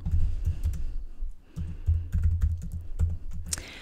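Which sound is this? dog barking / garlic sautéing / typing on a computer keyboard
typing on a computer keyboard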